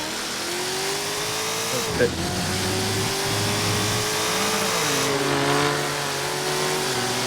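A car engine revs and accelerates at speed in a roleplay video game, with a steady rising engine drone and a brief knock partway through, while voices talk over it.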